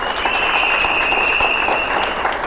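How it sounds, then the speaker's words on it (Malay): Loud crowd applause at a business seminar, continuous brisk clapping from an audience filling the room evenly, with a faint steady tone running underneath. "Tepukan bagi beliau."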